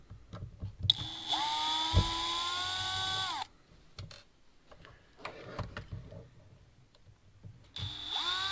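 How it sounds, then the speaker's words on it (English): Cordless power drill whining as it backs screws out of a Latrax Teton RC car axle, two bursts: a long steady run with rising pitch followed by a later start, with small clicks and handling noises between them. "I'm going to take these screws out, so that way I could pull the axle out."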